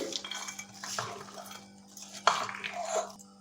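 Salad of raisins and walnuts being mixed in a bowl, a spoon scraping and clinking against the bowl's side in steady close-up strokes, with a sharper clink partway through; no talking.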